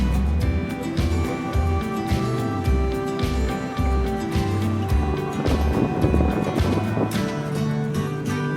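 A boat travels along the Kalimas River in Surabaya, heading north toward Tanjung Perak. Its engine gives a steady droning rumble with a low tonal hum, mixed with water wash, and the sound stays continuous and fairly loud throughout.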